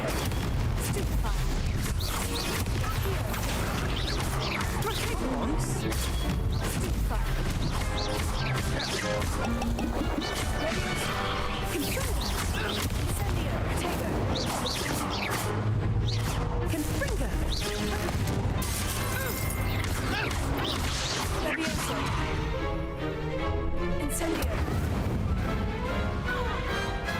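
Spells cast during a duel in Hogwarts Legacy, heard as a dense run of magical blasts, crashes and whooshes over a constant game soundtrack, with voices shouting spell names throughout.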